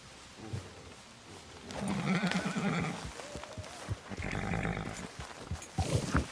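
Horse whinnies and hoof clatter in Red Dead Redemption 2, with a rising neigh around the middle and scattered hoof thuds over a busy, layered game soundscape.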